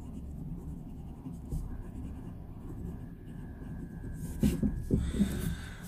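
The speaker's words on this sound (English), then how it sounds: "So it is writing without any scratch the way it should." A fountain pen moves across paper in a soft, steady, faint scratch that runs under a low room hum, with a few louder strokes near the end.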